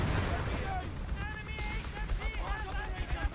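Machine gun fire from American and British MG teams in a woodland Company of Heroes 3 battle, rattling bursts mixed into busy game noise and music while someone talks over it.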